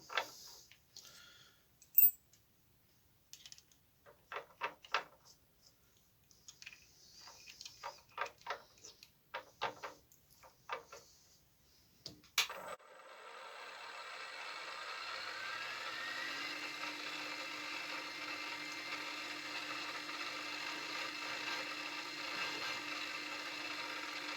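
Metal lathe chamfering with a countersink bit: scattered ticks and clicks of setup give way to a steady, continuous whirring drone of the spinning machine that holds on evenly to the end.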